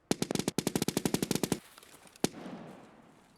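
Rapid automatic gunfire in a shooter game on the Shoreline map, a fast burst of loud shots for about a second and a half, then a single sharp shot followed by a fading echo and quiet.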